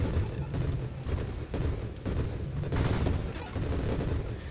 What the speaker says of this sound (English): we're not going to stop hearing grenades for a very long time